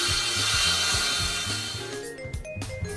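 Parquet board being ripped to width with a power saw, a rough buzzing cut with a repeating grinding rhythm that fades as the blade finishes, close and alone.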